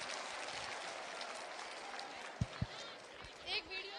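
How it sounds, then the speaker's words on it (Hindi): Youth audience at a Gwalior gathering breaks into broad, steady applause, a dense crowd clapping throughout with a couple of sharp thumps and some voices near the end. "ताली बजाओ जिसने 27 बोला उसके लिए।"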